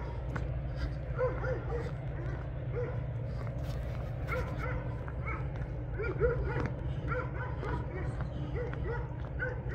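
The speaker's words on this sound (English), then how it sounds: "They all do is bark, bark, bark." A small mixed-breed dog barks and yips repeatedly throughout, moderately distant, under continuous talk and a steady low hum.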